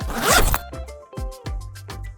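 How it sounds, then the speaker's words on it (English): A clothing zipper is pulled in one long rasping zip, followed by several shorter, sharper tugs, close and clear with no talking. "Zipper."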